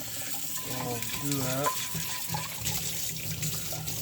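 Running tap water splashes steadily while a brush scrubs a cast iron skillet to clear stubborn sausage fat, a continuous near wash with a voice speaking briefly over it at the start.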